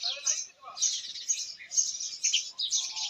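Morning birds chirping and tweeting in quick, overlapping bursts, bright high calls continuing steadily with brief pauses, fairly close.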